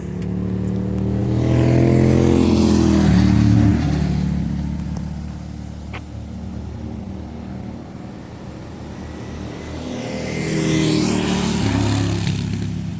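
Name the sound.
motorcycle riding past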